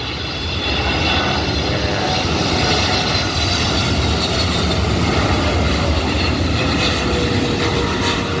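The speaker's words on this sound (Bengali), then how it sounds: "বিমানটি সুদূর দুবাই থেকে চলে এসেছে অ্যামিরাটস এয়ারলাইন" A large Emirates Airlines passenger jet arriving from Dubai at an airport produces a loud, steady engine roar that stays constant throughout, close and filling the whole scene with no voices.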